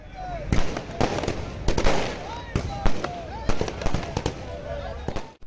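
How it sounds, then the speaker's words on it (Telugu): Firecrackers go off during a celebration by a politician's supporters, a rapid, irregular string of loud, sharp bangs and crackles that runs throughout. Voices can be heard faintly underneath. "ఆయన అభిమానులు టపాకాయలు పేల్చి తమ అభిమానాన్ని చాటారు"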